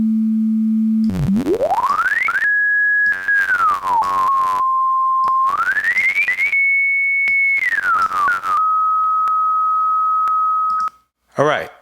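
A pure sine tone that glides smoothly between pitches, rising and falling in slow one-second ramps and holding steady levels in between, loud and continuous.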